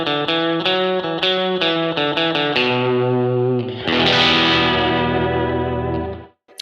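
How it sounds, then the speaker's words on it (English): An electric guitar plays plucked notes and then a sustained chord through a single delay set before a spring reverb, with repeating delay echoes and a splashy spring reverb tail that fades out. "So we have a single delay placed in front of the spring reverb."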